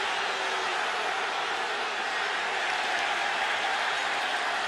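A stadium crowd at the 2008 Alabama vs Georgia college football game roars in a steady, loud, unbroken wash of noise.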